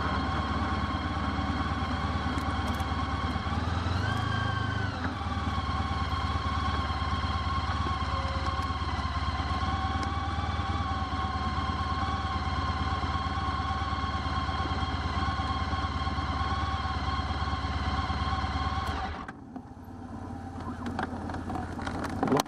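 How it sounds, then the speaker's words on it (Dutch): A motorcycle engine idles with a steady, loud, even hum while being parked, holding for about twenty seconds before cutting off into quieter background sound. "Hier de motor even neerzetten."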